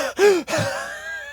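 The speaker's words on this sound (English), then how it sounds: "I was heaving like this." Heavy, heaving breaths pushed through a harmonica, played with diaphragm-driven breathing: two sharp gasping pulses, each cut off by a brief gap, then a longer reedy tone that fades, close and fairly loud with no talking.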